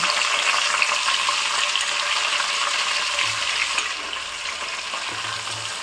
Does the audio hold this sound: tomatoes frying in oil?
yes